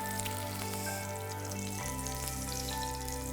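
Flour-coated fish fries in a pan with a steady, fairly quiet sizzle and crackle and a low hum underneath, with no speech.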